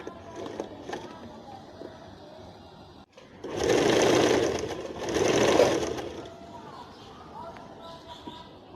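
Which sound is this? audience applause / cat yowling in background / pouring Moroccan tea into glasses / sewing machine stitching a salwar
sewing machine stitching a salwar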